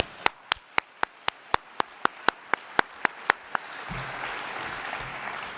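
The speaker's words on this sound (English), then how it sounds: "let's get a big round of applause for our engineering team" At the Open edX 2017 conference, an audience claps in a steady, evenly spaced beat. A broader wash of applause then rises and carries on to the end.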